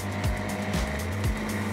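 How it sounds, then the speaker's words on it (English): Sprint car engine running on track during a shakedown, loud and steady with a low droning roar and recurring revving sweeps, close and continuous with no talk. "give the car a shakedown to make sure that everything was working correctly"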